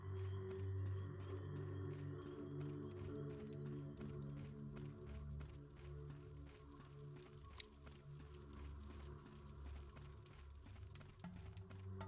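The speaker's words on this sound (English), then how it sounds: "a million crickets and frogs with like gunshots going off in the distance" A night ambience from the video game Pathologic: faint, steady chirping of crickets and frogs in a repeating pulse over a low rumbling bed, with occasional soft distant gunshot-like thumps, quiet throughout and no talk.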